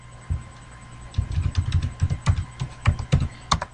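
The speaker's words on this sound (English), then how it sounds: "let me type out my" A password is typed on a computer keyboard: quick, uneven clusters of close, crisp key clicks follow a brief pause, with no talking.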